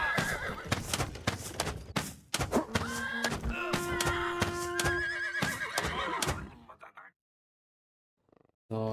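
Horses in the video game Rustler neigh and whinny repeatedly amid hoof clatter and thuds, loud and busy for several seconds before cutting to near silence.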